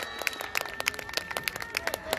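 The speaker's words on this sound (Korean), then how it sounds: "박수로 맞아주세요" At a Korean girls' high school festival, the audience applauds to welcome a band on stage, giving rhythmic, fairly evenly spaced claps heard from a distance at low volume, with ringing tones in the background.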